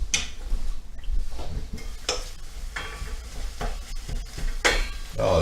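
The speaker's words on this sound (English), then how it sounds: "I'm going to go ahead and stir it." Pork stirs in a hot pan, a steady sizzle with repeated scraping and clanks of a utensil against the pan, close and continuous with no speech.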